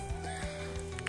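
A horse whinnies near the parking area at Kondaveedu fort, with a short, rough neigh and low steady harmonics heard close by over outdoor background noise.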